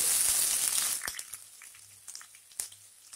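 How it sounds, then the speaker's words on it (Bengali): Chopped medium onion dropped into hot spiced oil for mutton kosha, bursting into a loud hissing sizzle that settles into a softer crackle with scattered spatters and utensil taps. "পেঁয়াজটাকে আমি জাস্ট একটু ব্রাউন কালার করব"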